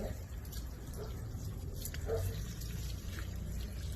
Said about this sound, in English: Gonna give it a nice, really good watering.